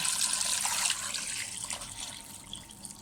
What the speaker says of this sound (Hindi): और हमने इसमें पानी डाला